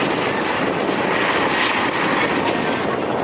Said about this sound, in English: We have the Metro Hospital helicopters doing a flyby.